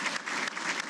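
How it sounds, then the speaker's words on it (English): A crowd gives a brief, dense round of applause for the inductees at a 2018 Hall of Fame ceremony, clapping close and steady throughout. "just give them one more round of applause"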